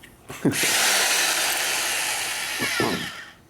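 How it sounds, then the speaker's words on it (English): A high-torque drill motor spins up during clutch and primary repair work on a 1972 Harley-Davidson XL Ironhead Sportster bobber, giving a loud, steady whirring burst of about three seconds before stopping. "The high torque drill motor."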